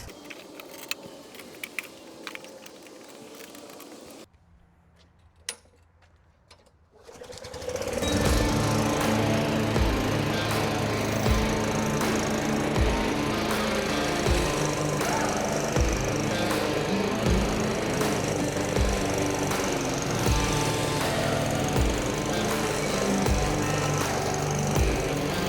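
A push lawn mower cutting very tall grass starts after quiet rustling and a brief pause, then its engine drones loudly and steadily nearby for the rest of the clip.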